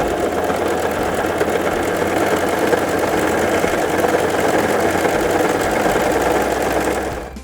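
A Brother CV3550 coverstitch machine running a narrow top cover stitch, a loud, steady, rapid mechanical whirr held unbroken for several seconds before stopping abruptly at the end.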